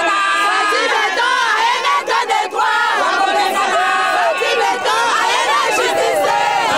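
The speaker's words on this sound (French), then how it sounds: "la foule a émis un chant d'allégresse" A large crowd sings a joyful chant together after a speech, loud and sustained with many voices in harmony and some cheering mixed in.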